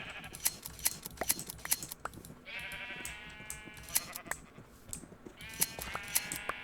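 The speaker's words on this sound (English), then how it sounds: "Let's shear the sheep one more time." Minecraft sheep bleat in short, repeated cries, two distinct bursts standing out amid soft clicking keyboard taps and mouse clicks in a quiet setting.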